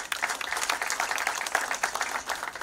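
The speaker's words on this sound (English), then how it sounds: "We need a round of applause for this." Audience applause at a public launch event attended by political leaders, a steady wash of many hands clapping at moderate level throughout, fairly distant and diffuse with no speech on top.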